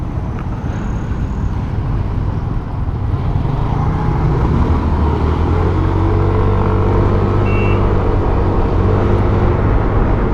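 Steady, fairly loud low rumble of road traffic surrounding a moving car, continuous throughout with no talking.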